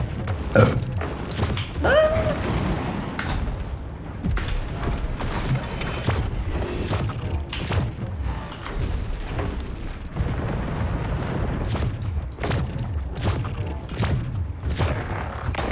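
Gunfire in the robot combat game War Robots Frontiers, a steady barrage of booming, thudding shots and mechanical rumble in dense rapid bursts throughout, with no talking.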